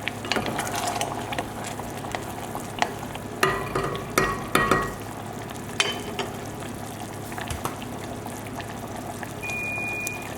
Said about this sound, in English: One more stir.